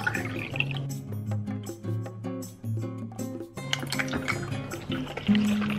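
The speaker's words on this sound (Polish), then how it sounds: "Muszę poczekać, aż mi się woda przefiltruje" Water drips and trickles through a water filter into a container in a quiet room, soft close drops in an uneven rhythm.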